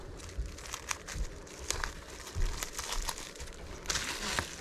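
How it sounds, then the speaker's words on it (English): A small piece of bubble wrap is cut with scissors, giving close, irregular crinkles and crackles with a few sharper snips over several seconds. "just a little piece of bubble wrap here."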